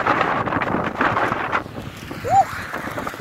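Strong winter wind in Norilsk buffets the microphone in broad roaring gusts, loud and close, with someone speaking briefly through it.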